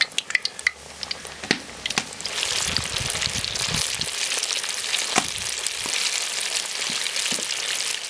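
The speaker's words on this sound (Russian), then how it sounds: "чтобы наши крылья не подгорели. Обжаривать 5-6 минут вполне достаточно." Chicken wings deep-frying in about 1.5 litres of oil in a kazan: a few clinks and knocks first, then a loud, steady bubbling sizzle that fills the rest, with occasional sharp taps.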